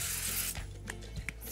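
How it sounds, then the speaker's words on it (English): Cooking oil is sprayed onto lined-up tortilla strips in a few short, quiet hissing bursts close to the microphone. "just give them a nice spray with some cooking oil."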